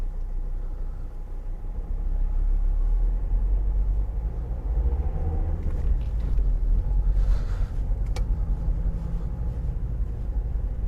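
A car driving on a road between Reigate and Dorking, heard from inside as a steady deep engine and road rumble that swells slightly partway through.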